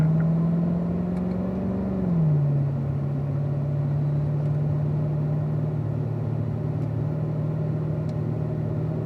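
Race car engine on a track during a warm-up lap, a steady loud drone whose pitch drops sharply about two seconds in as it shifts into fourth gear, then holds an even rumbling tone.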